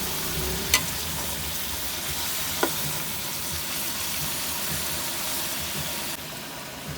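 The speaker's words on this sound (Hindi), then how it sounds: "कलेजी भी भूनती जाएगी, मसाला भी इसके साथ साथ भून जाएगा अच्छी तरह।" Kaleji (liver) and masala sizzle steadily in a hot pan, a continuous close hiss with two brief clinks of a utensil, quieting slightly at the end.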